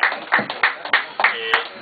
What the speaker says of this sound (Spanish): quiero un caluroso aplauso para este gran poeta Víctor Bustamante